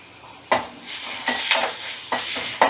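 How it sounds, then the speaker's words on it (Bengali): Thin potato strips fry in a pan over a medium gas flame, a moderate sizzle punctuated by five or six quick, close spatula clanks as they are stirred. "গ্যাসের মিডিয়াম ফ্লেমে আলুটা একটু ভাজা করে নেব।"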